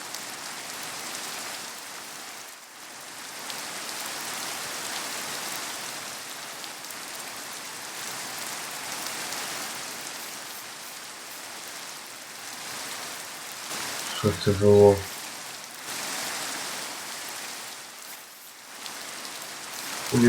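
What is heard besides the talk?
rain falling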